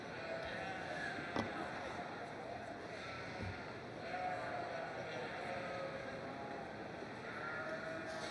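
Jacob sheep bleat at a 4-H and FFA county fair livestock show, with repeated quiet calls over a constant murmur of crowd noise in a busy barn.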